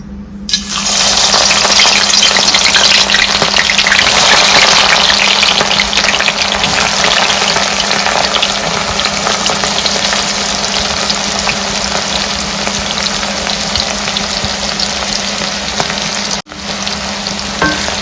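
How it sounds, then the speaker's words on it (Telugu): Onions sizzle and fry in hot oil on high flame for chicken biryani, a loud steady crackling hiss that runs unbroken near the pan, with a brief drop near the end. "ఆయిల్ వేడెక్కిందండి. ఇప్పుడు ఉల్లిపాయల్ని ఇందులో వేసేసి ఫ్రై చేసుకుందాం."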